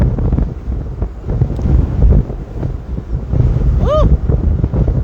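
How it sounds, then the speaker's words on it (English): Gusty wind buffets the microphone outdoors by a sorghum field on a holiday, a steady low rumble throughout with brief indistinct voices mixed in. "I hope it's not too windy and you can still hear us."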